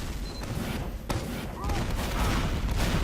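Gunshots in a team-based video game match, a sharp crack followed by a rougher burst of fire over dense background game noise and faint speech.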